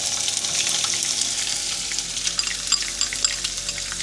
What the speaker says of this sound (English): now I'm going to add the onion